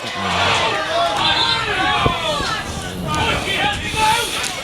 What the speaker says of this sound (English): Very difficult to hear the whistle here with how riled up the crowd are getting.